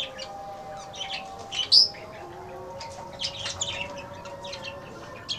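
Two parrots perched side by side give short, bright chirps and tweets in scattered bursts, with one sharper call near the start, over a faint steady hum.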